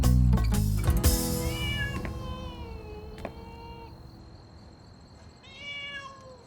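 A cat meows indoors, several drawn-out, tonal meows in two bursts separated by a pause, following a loud clattering noise at the start and sounding fairly close.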